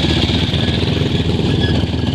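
A Suzuki A100 motorcycle engine idles close by after a trail ride, a steady, loud, buzzing two-stroke putter with no talking over it.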